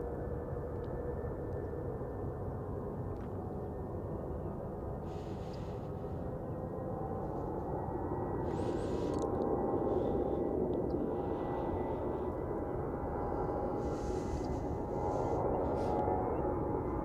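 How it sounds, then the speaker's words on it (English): An airplane approaches to land at Queenstown Airport in winter, with a steady broad engine roar that swells slightly as it draws nearer, over a constant rushing background. "You've got a plane coming in."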